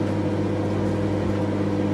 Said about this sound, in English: That is gonna go back in the microwave for one more minute.